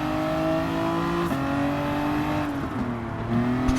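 BMW race car in Gran Turismo 7 accelerating with its wheels spinning, engine drone rising steadily through gear changes under a constant, loud, close exhaust note.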